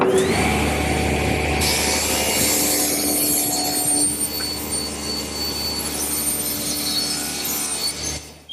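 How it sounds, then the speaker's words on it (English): A table saw ripping through a wooden board, a steady loud whine of blade and wood lasting several seconds, close up and alone, tapering off at the end of the cut. "And I'll do that at the table saw."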